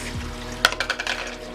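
A single sharp clatter followed by a few lighter clinks as ice cubes are dropped into a NutriBullet blender, over a steady low machine hum.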